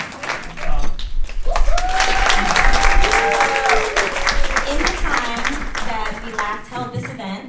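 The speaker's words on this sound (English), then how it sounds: "Round of applause for Gary Young, ladies and gentlemen." Audience at a benefit event gives a round of applause, a sustained wash of clapping mixed with crowd voices, cheering and whoops that swells early and then tapers off.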